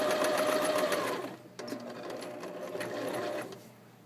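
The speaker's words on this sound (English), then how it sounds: "sew forward a bit, and then back stitch because I don't want this seam coming out" A sewing machine stitches a gathered seam, running fast and loud, pausing briefly, then running again with a backstitch, and no talking.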